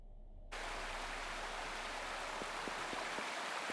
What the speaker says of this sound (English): It was like a waterfall sound jump scare.